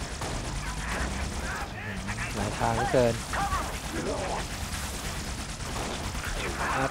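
Halo: Spartan Assault gameplay brings rapid bursts of laser weapon fire and explosions in a dense, continuous din, while someone talks over the action.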